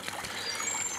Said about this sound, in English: I've just got a pump over there feeding up to the waterfall.